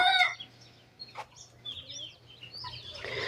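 Chickens on a two-month-old growing-stage poultry farm, with scattered soft clucks and chirps, quiet and sparse over a low steady hum.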